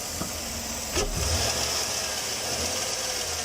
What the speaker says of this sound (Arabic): طلع عنده مسفاير في سلندر رقم 3